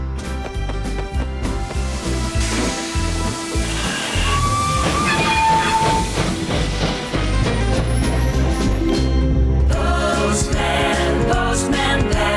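A cartoon steam train pulls away in a loud, continuous mix of chuffing, hissing steam and rumbling wagons, with a whistle-like tone rising partway through and the sound swelling again near the end.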